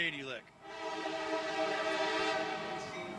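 A train horn sounds in a sustained, loud blast that fills the whole clip, with voices talking over it.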